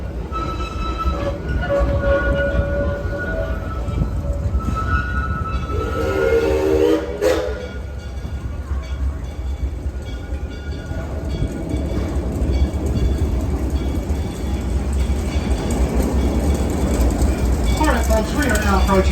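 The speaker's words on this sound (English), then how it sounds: "Here on the right side is our mini mine train." The Six Flags Over Texas mini mine train, a small 1969 roller coaster, rumbles steadily along its track with clattering wheels and brief whistle-like squeals, while people talk over the ride noise.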